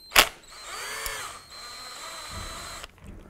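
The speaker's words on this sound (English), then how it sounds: "We're going to go ahead and remove this with a T30 Torx bit." A power driver with a T30 Torx bit whirs briefly as it backs out a screw from the key lock detent on a 1993-1997 Ford Ranger steering column, a close, steady whine lasting a few seconds after a sharp click.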